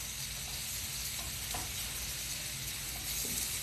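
Plant-based potatoes hiss and sizzle steadily in a hot frying pan while a spatula scrapes and flips them, producing a few soft scraping knocks under the constant close frying noise, with no talking.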